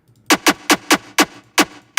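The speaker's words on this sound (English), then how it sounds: "So from his pack, the Minerals pack, I use snare 2" Snare 2 from the Prod by Ocean Minerals sample pack plays as a dry one-shot, repeated seven times in a quick, slightly uneven pattern, each hit a bright, crisp crack with a short tail, loud and close, with no talking.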